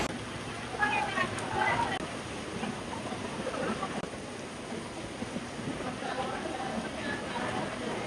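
Steady rain falls on a rainy day at a hilltop temple, a dense continuous hiss throughout with voices talking over it.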